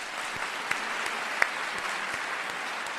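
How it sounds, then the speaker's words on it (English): A canned applause effect plays as a soft, even wash of many hands clapping, with a few sharper claps standing out, fairly quiet throughout. "Hold on, where's the applause at?"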